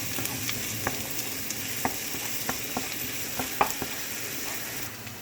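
Onion and garlic frying in a pan for fried rice: a steady, even sizzle with occasional light stirring ticks, close and moderately quiet, with no talking.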